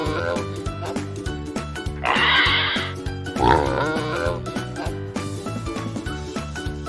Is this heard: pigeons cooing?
no